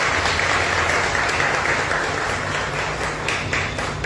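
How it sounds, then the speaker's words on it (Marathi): A church congregation applauds to welcome a couple at a Lent Sunday communion service, dense continuous clapping filling the room at steady volume with a low hum beneath. "टाळ्या वाजवून त्यांचं स्वागत करूया"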